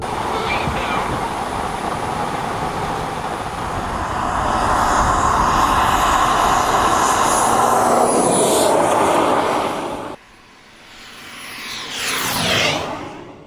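Jet-engine-powered RC car running on a test track, a loud continuous turbine roar that swells and sustains, cuts off sharply, then a shorter whine surges past and fades.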